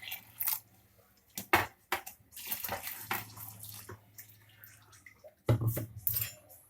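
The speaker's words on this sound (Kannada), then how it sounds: "ನೋಡಿ, ಸೊಪ್ಪು ಬೇಯಿಸಿರೋ ನೀರು ಹಾಕ್ತಾ ಇದ್ದೀನಿ." Water left from cooking greens is poured into a mixer jar for a pigeon pea and field bean saaru, with uneven splashing gushes that come and go, some louder pours near the end.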